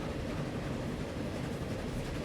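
A train rolls along rails in the Transport Fever 2 game, a steady low rumbling drone with no distinct clicks or voices.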